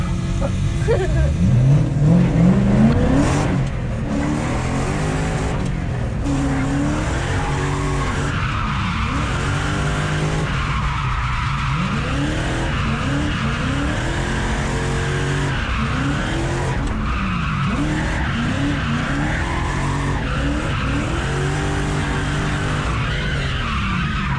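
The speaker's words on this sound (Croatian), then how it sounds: "Jer to je trkač auto." A race car's tires squeal and skid in long, sweeping wails, first loud and close, then a continuous engine roar with repeated squealing slides; some talk is faintly present.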